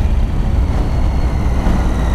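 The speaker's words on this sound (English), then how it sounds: "Big trucks pulling out in front of me." Loud, close rumble of big trucks pulling out in traffic, heard from a motorcycle amid a steady low engine drone with wind noise throughout.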